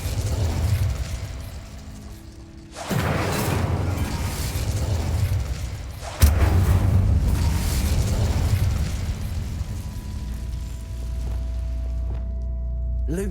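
Incendio fire spell in Hogwarts Legacy, a fiery burst that erupts loudly, followed by a second sharp blast and a long roaring rumble that lingers and slowly settles.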